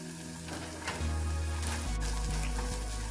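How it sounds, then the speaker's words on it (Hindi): Chickpeas fry lightly in oil with red chili powder for a vegetarian salad, giving a steady, close sizzle with a low hum and a few soft scrapes of stirring throughout. "इसके बाद हम ये चना डाल देंगे पूरा, इसको हल्का सा फ्राई करेंगे हम।"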